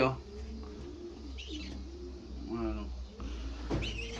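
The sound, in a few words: young racing pigeons cooing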